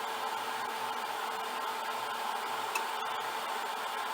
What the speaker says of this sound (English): I've left the vacuum on because I do have some thread still on there